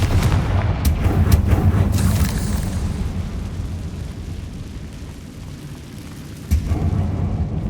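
Confringo blasting spell explosion in Hogwarts Legacy, a series of loud booming blasts followed by a long rumbling tail that fades, then a second thump near the end.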